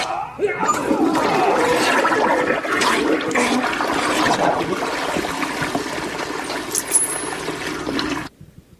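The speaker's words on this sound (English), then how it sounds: "How about a courtesy flush over there?" A toilet flushes loudly and close by, a sustained rush and swirl of water lasting around eight seconds before stopping abruptly, with a trickle fading near the end.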